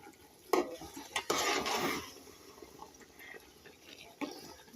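Spice mix is added to a pickle cooking in a pan, with a brief burst of scraping, stirring and clinking of utensil on metal over a gentle sizzle, then quieter stirring.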